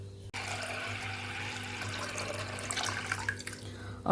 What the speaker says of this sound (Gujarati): અડદની ઉપર આવે એટલું પાણી ઉમેરીને અડદને આપણે બાફી લેવાના છે